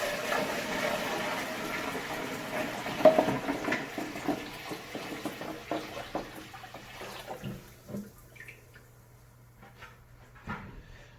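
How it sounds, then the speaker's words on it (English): Water poured from a bucket into a 32.5-gallon Fluval Flex saltwater quarantine aquarium, a steady splashing pour that tapers off into scattered drips and small splashes, with no talking. "So I'm just going to be pouring water in."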